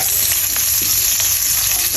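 Ginger fries in a hot pan at the start of an adobo of chicken liver and gizzards, a loud, continuous close-up sizzle with faint stirring underneath.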